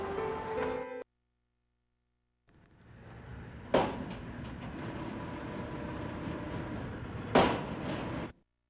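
A subway train ride in the PS2 game Blood: The Last Vampire: a steady rumble and rattle of rail cars, broken by a silent gap, with two sharp clattering surges and an abrupt cutoff.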